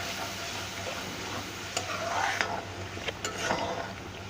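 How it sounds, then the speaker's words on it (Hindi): Masala paste with ginger-garlic paste fries in a pan for a fish curry, a low steady sizzle with a few sharp clicks and scrapes of a spoon stirring it. "ये मसाला हमारा भून रहा है।"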